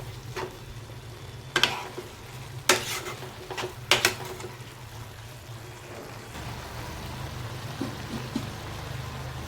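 Milk for carrot halwa cooking down in a pan on a low gas flame, with a steady low simmering hiss under several sharp scraping and stirring clatters of a spoon against the pot.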